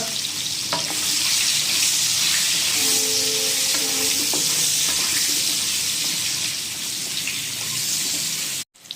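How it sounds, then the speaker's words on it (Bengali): Loud, continuous frying sizzle of potatoes in hot oil with turmeric, close up, with occasional scraping clinks from stirring; no one speaks. "এখন আলুটা ভালো মতো একবার ভেজে নেব আমরা"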